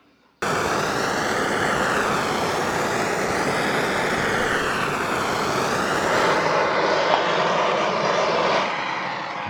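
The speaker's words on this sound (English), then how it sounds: "We're going to run this over to the press and apply some fire." Torch flame heating a brand-new bearing race on a press during a Series 1 Land Rover transfer box overhaul, a loud continuous roaring hiss that starts abruptly and holds steady to the end.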